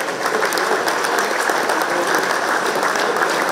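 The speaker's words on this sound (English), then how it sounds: "I think that deserves a round of applause." An audience at a hall of fame induction ceremony breaks into sustained, dense applause that holds steady and loud throughout, with no talk over it.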